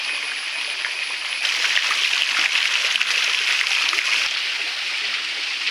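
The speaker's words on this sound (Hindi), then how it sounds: "ऊपर भी पानी पड़ुची।" Water falls from above at a zoo in Kerala, a steady bright rushing and splashing that holds at a constant level throughout.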